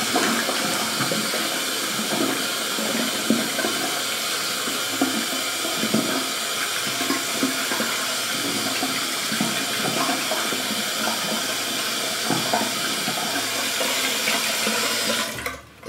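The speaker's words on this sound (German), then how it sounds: "ich habe jetzt mit klarem Wasser nachgespült" Clear tap water runs continuously as a face is rinsed, a loud, steady splashing stream with irregular spatters, ending abruptly.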